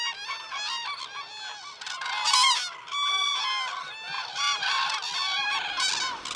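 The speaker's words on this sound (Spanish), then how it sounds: "Y las grullas trompetean anunciando la mala estación." A loud chorus of cranes calling in harsh, trumpeting honks, overlapping and continuous with no pauses.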